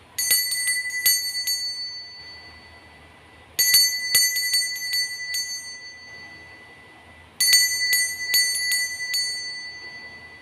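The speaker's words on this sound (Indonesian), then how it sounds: "Kita akan mulai dengan ditandai lonceng berbunyi." A bright ringing bell chimes in three separate bursts, each a quick cluster of metallic dings that rings on and fades before the next, clear and close with no voices.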